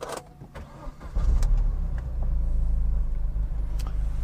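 A 2008 Opel Astra OPC Nürburgring Edition engine cranks and catches, then settles into a steady, loud idle rumble close by.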